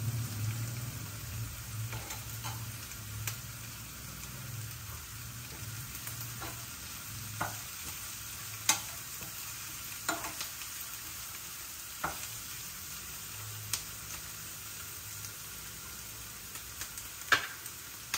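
Plenty of curry leaves frying in a pan with chopped green chillies for pesarattu upma, a soft steady sizzle with scattered crackles and stirring knocks, fairly quiet and with no talking.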